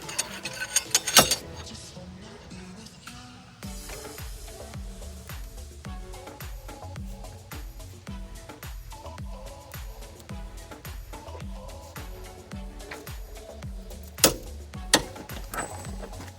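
A torque wrench ratchets in quick repeated clicks while a car axle nut is tightened, a steady mechanical ticking carrying on for several seconds in a garage setting.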